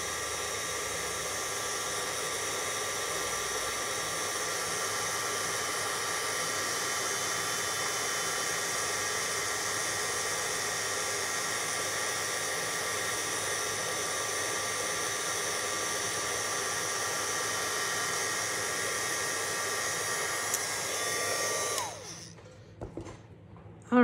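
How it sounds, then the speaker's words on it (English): A heat tool blows steadily and loudly for about twenty-two seconds, melting metallic embossing powder on a papercraft piece, then cuts off, leaving brief faint handling sounds. "grab your little reverse tweezers and hit it with your heat tool, and it's gonna turn nice and shiny"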